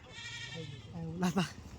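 A Kathiawari goat bleats briefly, a short wavering call, with people talking in the background.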